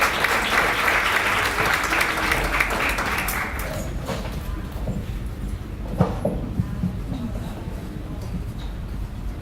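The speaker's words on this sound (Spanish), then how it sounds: "un aplauso nuevamente para Raquel" An audience at a children's rights and social policy event claps for Raquel, a full burst of applause that thins out midway into scattered claps, a few knocks and room noise.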